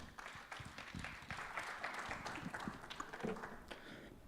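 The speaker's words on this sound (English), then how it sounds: "Give them a huge round of applause" At an awards ceremony, an audience applauds in a dense, continuous patter of many clapping hands, steady and fairly distant throughout.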